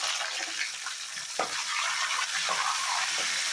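Washed curry leaves drop into hot tempering oil with cumin for lemon rice, setting off a loud, crackling sizzle that runs continuously with a few sharper pops.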